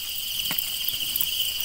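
Large crickets (jingkrong) at a Thai cricket farm keep up a dense, loud, continuous high chirping chorus, close by, with a few faint knocks underneath and no talk.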